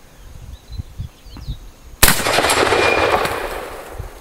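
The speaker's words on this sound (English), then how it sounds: "Clip popped out." A single M1 Garand rifle shot at an outdoor range: a few seconds of quiet with faint birdsong, then one loud, sharp report that rolls into a long, echoing decay.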